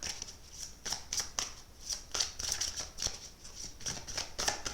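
Oracle cards being shuffled by hand in a quiet room, a series of crisp riffling and sliding bursts repeating irregularly, close and fairly soft.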